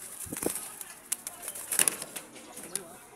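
Soft rustling and brief fluttering sounds from a racing pigeon nearby, with faint coos and scattered clicks in a quiet setting.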